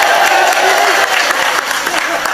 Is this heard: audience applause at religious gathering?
yes